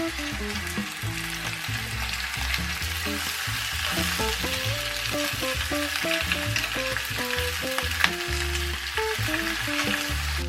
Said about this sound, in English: Put the cabbage into the pan.